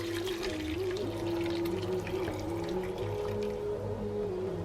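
Water pours steadily from a container into a cooking pot for akhni in a home kitchen, a continuous splashing trickle with a low hum in the background.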